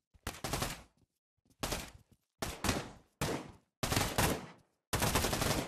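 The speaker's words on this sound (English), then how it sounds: "Oh, I love this shotgun." Shotgun fire in the VR shooter Pavlov Shack during a team deathmatch: six loud, broadband blasts spaced roughly a second apart, each with a short tail, separated by near silence.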